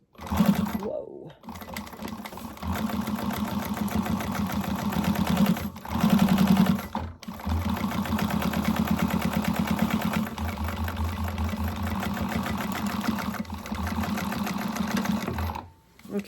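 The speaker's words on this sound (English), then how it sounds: "Give that a top stitch." A sewing machine top stitches a lining panel in steady, fast runs of whirring needle clatter, close and loud, broken by a couple of brief pauses.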